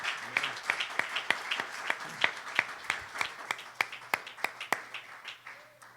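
A church congregation at an evangelistic service applauding visiting brethren, a run of about twenty fairly regular claps from a small group, moderately close, with a faint hum underneath.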